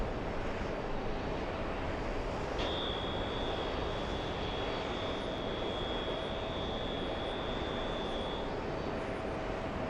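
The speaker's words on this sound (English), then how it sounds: "Air India number 2 for takeoff." An Air India airliner's jet engines roar steadily while it takes off at Los Angeles, heard from a distance as a constant broadband rumble with a thin whine running through much of it. No one speaks.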